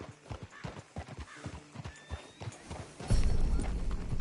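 Horse hooves clip-clopping in the Red Dead Redemption 2 video game, a brisk run of close, distinct hoof strikes followed by a louder, rumbling burst near the end.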